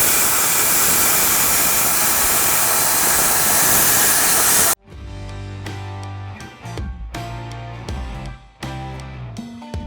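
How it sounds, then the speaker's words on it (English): A plasma cutter trims the leaf spring pads off a Firebird rear axle, giving a loud, steady hiss for about five seconds before cutting off abruptly, followed by clanking metallic workshop noises. "cut the leaf spring pads off of this Firebird rear end"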